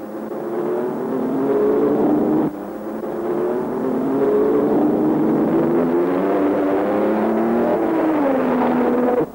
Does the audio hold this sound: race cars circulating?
yes